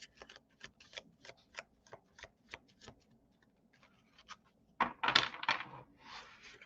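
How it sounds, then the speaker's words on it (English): Quiet, rapid ticking snaps of tarot cards being handled, then a louder burst of riffling and rustling near the end. "That was messy shuffle, but a good one."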